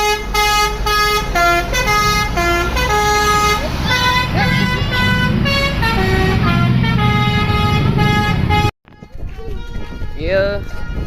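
Indonesian bus telolet horns play loud, rapid melodic tooting runs over steady engine rumble, note after note in quick patterns, then a brief cut and a few more rising tones with crowd noise.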